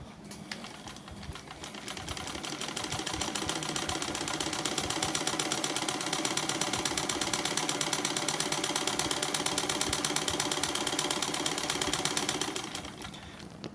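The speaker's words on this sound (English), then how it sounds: "And let's see how the satin stitching goes." A 1967 Singer 224 sewing machine doing satin stitching, its motor running steadily with a fast rhythmic needle clatter for about twelve seconds, close and moderately loud, with no talking.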